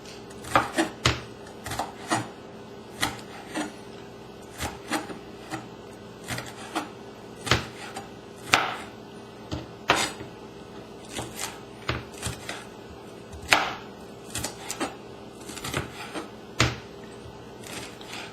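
A knife slicing chili peppers into strips on a cutting board gives irregular sharp clicks and taps, close and fairly quiet, spread across the whole stretch without talk.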